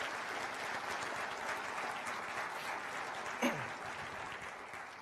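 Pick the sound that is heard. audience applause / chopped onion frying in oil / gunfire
audience applause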